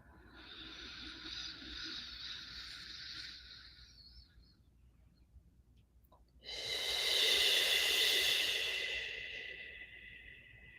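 Deep breathing during yoga: a long, soft, airy inhale lasting several seconds, a brief pause, then a stronger, louder exhale pushed out through the mouth. It is close and quiet, with no talking.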